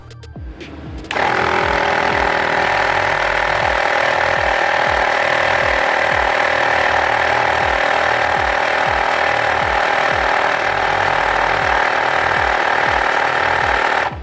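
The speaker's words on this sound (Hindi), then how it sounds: "सिर्फ 13 सेकंड्स में इसने मोटरसाइकिल के फ्रंट टायर में एयर फिल कर दी।" An AmazonBasics digital tyre inflator kicks on after about a second and runs loud and close for over thirteen seconds, filling a motorcycle's low front tyre with a steady motor drone and rapid regular pumping pulses.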